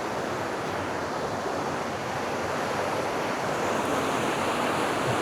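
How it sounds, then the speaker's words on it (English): Running river water at Hafod Estate, a steady broadband rush flowing continuously and close by, with no voices over it. "You can probably hear the water running."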